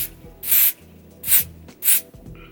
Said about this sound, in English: I'm gonna just spray the hairline one more time.